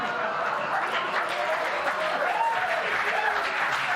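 An audience applauds and cheers, a steady wash of clapping with crowd voices mixed in, at an even level throughout.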